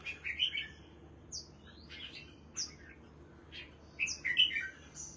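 Pet sunbirds kept by a Dong Nai bird keeper sing in a series of short, high, sharp chirps and squeaky calls, scattered across the moment and bunching at the start and end, fairly close over a low steady hum.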